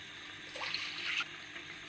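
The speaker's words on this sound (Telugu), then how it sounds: "ఇప్పుడు మనం గ్రేవీ కోసం కొన్ని నీళ్ళు పోస్తాం." About a glass of water pours into simmering Telangana-style chicken curry to make the gravy, a short splashing burst in the middle, fairly quiet against a soft kitchen background.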